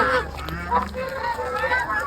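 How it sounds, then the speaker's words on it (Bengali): A flock of white ducks honks outdoors in a steady, overlapping chorus of loud, close calls that runs without a break. "হাঁসগুলো কত সুন্দর, সব সাদা,"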